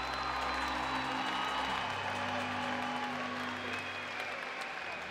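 A crowd applauds steadily at a Dutch stallion show as stallion number 366, Jasper, makes his farewell. Dense, even clapping fills the arena at full volume, with a low droning undertone fading after the first couple of seconds.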